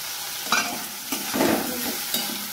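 Chopped tomatoes fry in a pan with turmeric, stirred in short scraping bursts over a steady low sizzle, close and moderately loud with no voices.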